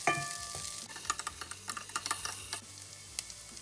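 Finely chopped garlic sautéing in the oil left in the same pan used for frying, for a chicken and potato gravy; soft sizzling with scattered light clicks and scrapes of stirring, quiet and close, with no talking.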